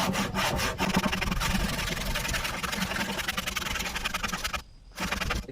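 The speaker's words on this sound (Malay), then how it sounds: "Kita sambung gergaji tanggam." Steady back-and-forth rasping of a hand saw cutting a wooden joint for a chair, close and continuous, with a brief pause near the end before strokes resume.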